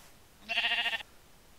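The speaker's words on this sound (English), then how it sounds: "Ooh, a sheep." A single short sheep bleat from the video game Minecraft, a clear nasal wavering call lasting about half a second, close and distinct over quiet background.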